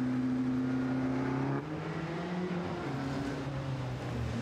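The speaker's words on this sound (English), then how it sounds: "the glorious Maserati birdcage" Maserati Birdcage, a 1960s front-engined four-cylinder race car of 2 or 3 litres, at a hill climb, its engine holding a steady loud drone that steps down in pitch partway through, heard continuously outdoors.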